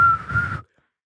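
A voice imitates a blown whistle with one short, shrill, steady tone that cuts off abruptly into silence.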